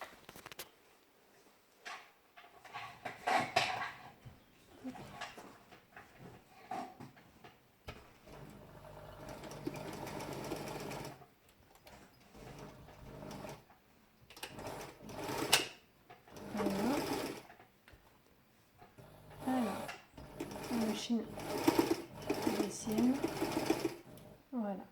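A sewing machine stitches a fabric face mask modeled on the AFNOR pattern in several bursts of rapid mechanical whirring, with pauses between runs, while a person talks throughout.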